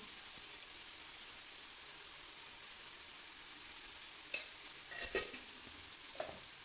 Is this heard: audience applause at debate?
no